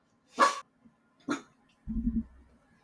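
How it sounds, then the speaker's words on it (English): A pet dog barks twice in quick succession indoors, fairly close, then gives a lower, shorter grumbling whine, with no talk over it. "Yuki, what are you barking at?"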